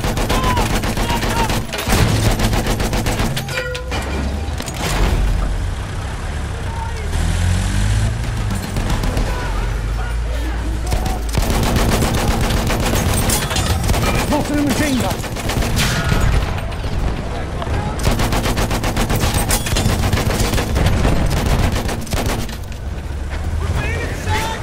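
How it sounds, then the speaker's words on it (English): Machine gun fire in Battlefield 1 rattles in repeated bursts over heavy wind and rumbling battle noise, loud and dense for the whole stretch. Shouting voices come through now and then. "Machine gun, hostile!"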